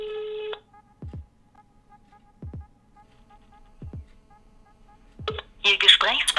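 An unanswered mobile phone call rings out: a short tone, then repeated ringback tones spaced evenly in quiet pauses, ending with a burst of a recorded network message.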